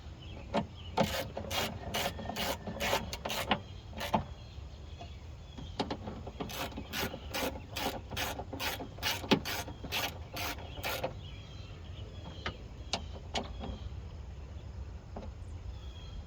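The window regulator motor inside the door of a 2006-2013 Chevy Impala is tightened down, producing quick runs of close, rapid ratcheting clicks in several bursts, with a few isolated clicks near the end.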